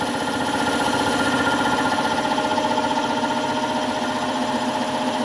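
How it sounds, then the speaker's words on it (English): A lab air compressor runs steadily and loudly, a constant mechanical hum and whine with a faint rhythmic knock, alone with no talking for about five seconds. "This one is called air compressor 1"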